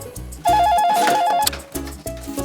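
A cartoon telephone rings in a repeated electronic warble, loud and close, in one long burst followed by shorter bursts, over light background music.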